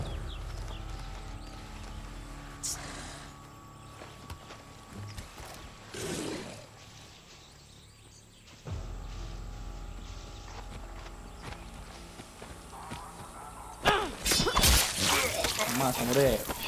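Horse hooves clip-clop steadily in Far Cry 6, a rhythmic trot heard near over game ambience, with brief whooshes and a louder burst of activity near the end.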